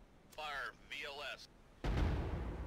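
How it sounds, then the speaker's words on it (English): A missile launches in the naval combat game Cold Waters, a sudden loud broadband rushing roar that bursts in and holds steady to the end, following two stretches of talk. "Okay, you see the missile launching."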